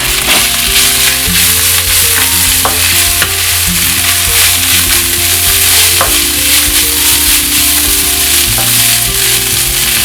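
Rice is tipped into a pan of coconut frying to golden brown for coconut mint fried rice, then stirred, giving a loud, continuous sizzle broken by scraping strokes of the spoon.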